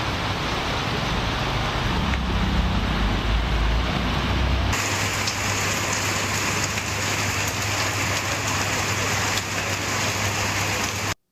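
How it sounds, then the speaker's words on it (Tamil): Heavy rain pours down during a storm in Tamil Nadu, a dense, steady hiss of falling water that shifts texture partway through and stays loud until it cuts off abruptly at the end. "3 மணி நேரத்திற்கு மேலாக கனமழை வெளுத்து வாங்கியது"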